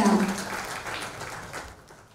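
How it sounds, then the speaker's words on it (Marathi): Loud applause from the audience at a Marathi film trailer launch, a dense burst of clapping that carries steadily for about two seconds before thinning out. "क्या बात है, जोरदार टाळ्या."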